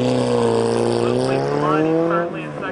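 A 1969 Lotus Europa race car drives an autocross course, its engine note held loud and close, then rising in pitch as it accelerates before easing off near the end.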